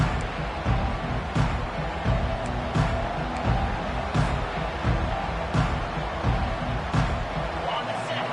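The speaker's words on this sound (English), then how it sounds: "this crowd is fired up. Listen to this noise here." A fired-up football stadium crowd roars steadily after a kickoff touchback, a broad continuous wash of distant noise with occasional thuds, under a commentator's voice.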